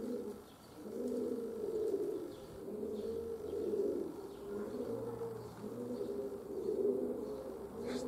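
Pigeons coo repeatedly in soft, rhythmic low phrases, fairly close, with faint chirps and background ambience in between; a peregrine falcon has been hunting the flock nearby.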